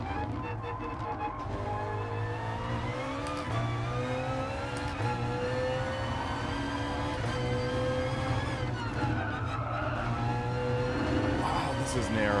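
A car laps the Nordschleife in Gran Turismo Sport, its engine a steady, fairly loud drone whose pitch climbs and falls with gear changes throughout, with no pause.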